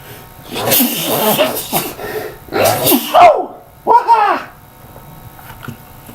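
A person sneezes loudly a couple of times in quick succession, with breathy gasps between, fairly close by and with no talking.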